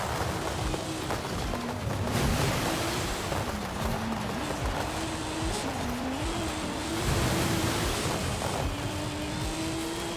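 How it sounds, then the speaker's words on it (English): A V12 racing car engine in Forza Horizon 5 roars continuously at high revs, its pitch rising and dipping with gear shifts, loud and close with no voices. "Sounds like the V12."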